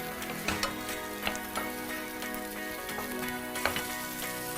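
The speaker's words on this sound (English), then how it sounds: "So you can just turn them a bit so that they can get coated into the flavored oil" Carrots and garlic sizzle steadily in flavored oil in a pan, a dense crackling fry with several sharp clinks and taps from turning the pieces, close and fairly loud, with no talking.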